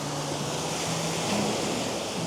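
Ocean waves rolling onto a shore, a steady broadband wash of surf with some wind noise, continuous and fairly loud with no talking.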